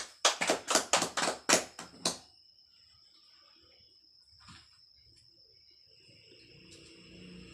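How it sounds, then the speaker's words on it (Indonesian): A class claps briefly for a student in a classroom, about seven sharp, loud claps in quick succession, then near silence with faint room noise and a thin steady tone. "Tepuk tangan dulu."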